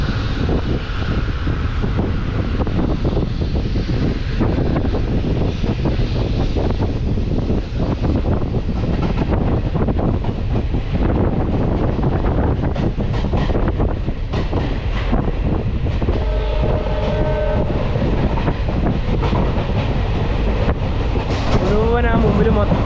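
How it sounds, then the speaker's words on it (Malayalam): A passenger train on the Nilambur–Shoranur line gathering speed, with a constant loud roar of wheels and wind buffeting the microphone, irregular rattles, and a brief horn-like tone near the end. "ഈ വണ്ടിക്ക് പെട്ടെന്ന് സ്പീഡ് കൂടുന്നുണ്ട് കേട്ടോ."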